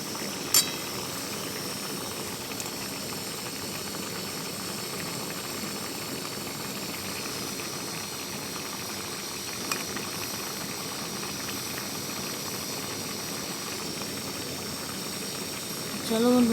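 Food boils under a covered pot, giving a steady, moderately quiet hiss of steam that runs throughout with faint rattles, a couple of brief clicks, and a slight louder bubbling surge near the end.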